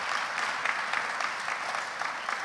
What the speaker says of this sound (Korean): 큰 마음으로 박수로 감사의 마음 표현합시다.